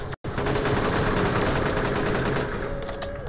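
Rapid automatic turret fire rattles on without letup in the game Borderlands: The Pre-Sequel, loud and close after a brief cut at the start, with a faint tone running beneath the burst.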